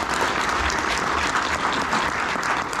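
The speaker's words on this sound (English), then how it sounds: "we give them all a really heavy round of applause" Heavy round of applause from an audience at a local elected officials event held by a chamber of commerce, a thick continuous wall of clapping that stays loud and even throughout.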